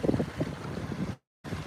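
Strong wind gusts buffet an outdoor microphone at a fall reservoir fishing spot, a loud, blustery rumble that cuts out abruptly for a moment before returning.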